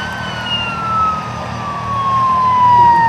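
Fire engine siren at an aircraft crash simulation on the Rozhen meadows, a single long wail sliding slowly downward in pitch over a low truck rumble, moderately loud and gradually getting closer.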